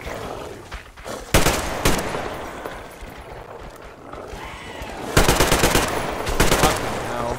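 Gunfire in Metro Exodus: two loud, rapid automatic bursts, the first short and the second longer after a pause, cracking sharply over a low, murky background din.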